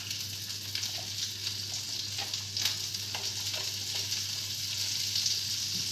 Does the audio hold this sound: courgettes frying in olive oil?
yes